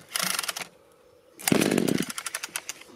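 A Parkside petrol chainsaw fires up after a pull start, giving two loud, close bursts of buzzing two-stroke engine noise with a short near-silent gap between them and no talk.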